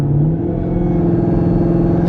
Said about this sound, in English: I can hear the supercharger whine.